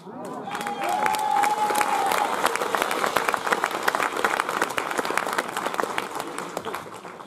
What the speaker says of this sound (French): pour cette chanson, on l'applaudit très fort